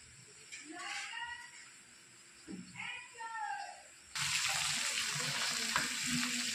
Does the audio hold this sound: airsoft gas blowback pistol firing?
no